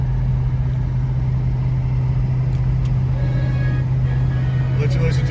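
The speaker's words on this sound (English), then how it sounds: "We'll run you through the gears here a little bit" A restored 1970 Ford Mustang Boss 429 in Grabber Blue drives through its gears, a steady low engine drone running continuously beneath the cabin noise, loud and close throughout.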